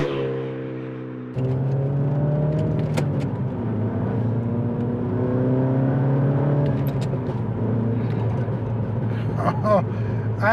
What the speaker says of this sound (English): As you push on, the loud pops on the back, you get more whooshes from the air intake at the front.